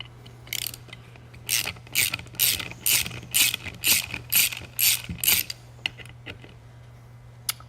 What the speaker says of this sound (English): now I'm going to remove the external 3 screws that hold on the operating handle.